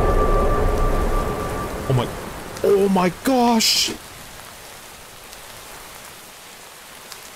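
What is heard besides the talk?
rain and thunder in video game Minecraft (DawnCraft modpack)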